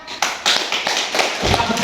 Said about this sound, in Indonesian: Beri tepuk tangan untuk semua kelompok.